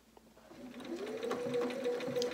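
Sewing machine stitching machine appliqué on a quilt, a steady whirring hum with a fine rapid needle rhythm that builds after a quiet start and runs continuously, close and clear with no talk.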